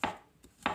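Banana sliced with a knife for banoffee pudding: two soft, close thuds against a board, a short gap between them.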